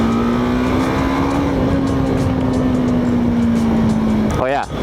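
A TVS Apache RTX 300 adventure motorcycle is under way, its 300cc engine holding a steady, even drone that rises slightly and then eases off. Wind noise runs underneath, and a rider talks over the engine.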